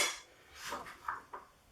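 Thin potato slices cut into rings tossed into a saucepan, a few quiet clattering knocks and light clinks of metal close by, faint and brief.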